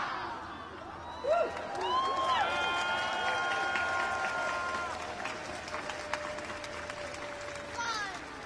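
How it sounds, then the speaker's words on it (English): Members of the public applaud and cheer for Queen Margrethe of Denmark as she leaves the palace balcony, a broad, steady crowd roar with clapping that holds for several seconds before thinning out. "The members of public gave some applause and cheers as the Queen left the balcony."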